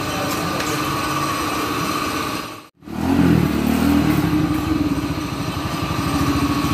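A 1994 Honda Astrea Grand motorcycle engine running after a carburetor service, a steady close idle with a brief cut-out dropout midway, then resuming with a slightly rougher, louder throb.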